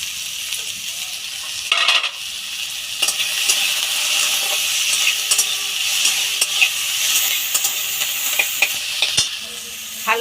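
Onion stalks and potato fry in a pan with salt and turmeric, a close, continuous hiss broken by scraping stirs and clinks of a utensil against the metal.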